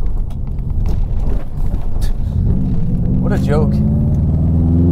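JDM Subaru WRX STI rolling over a rough, bumpy road, with a loud steady engine drone and thumping suspension jolts from the cabin, building into a strong low rumble; a voice talks briefly at the start.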